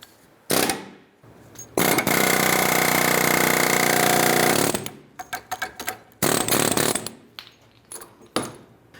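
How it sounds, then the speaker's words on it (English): A loud power tool presses the old bushing out of a 1999-2004 Jeep Grand Cherokee track bar in a sustained harsh, rattling burst, followed by shorter clanks and bangs of metal parts being handled. "we're compressing the bushing itself down so we can just pop that out of the track bar"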